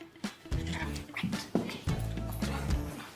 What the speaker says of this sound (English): whose dog is this?